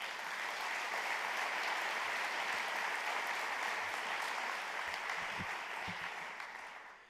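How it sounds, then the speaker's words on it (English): An audience applauds at an evening information session about the Indigenous Voice to Parliament in Kooyong, a dense, steady clapping that fills the room for several seconds before tapering off at the end. "and how about another round of applause?"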